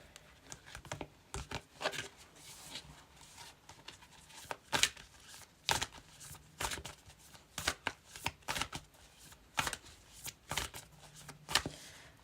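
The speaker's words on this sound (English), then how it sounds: "Right, let's give another shuffle." Tarot cards shuffled by hand in bursts of sharp riffling slaps and soft papery crinkles, close and fairly quiet, with short pauses between flurries and no talking.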